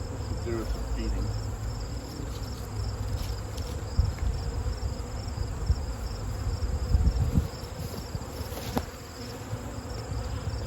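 Honey bees hum steadily inside a full autumn hive's brood chamber, a dense, continuous buzz close by with no talking.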